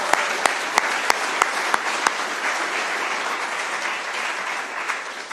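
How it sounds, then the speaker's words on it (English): A conference audience at an infosec event applauds, broad steady clapping from a sizable crowd with a few sharp, close claps punctuating the first couple of seconds before it evens out. "I want to give them a big round of applause."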